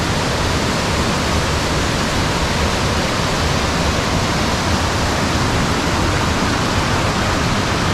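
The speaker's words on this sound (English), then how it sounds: "Waterfall's back there." A waterfall in Skagway, Alaska, rushing as a loud, unbroken roar of broadband water noise that holds steady for the whole stretch, with no voices.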